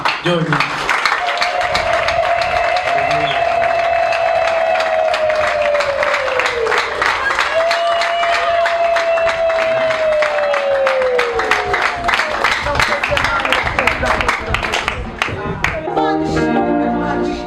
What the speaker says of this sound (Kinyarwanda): Nagira ngo dukomere Imana amashyi, tuyivugirize impundu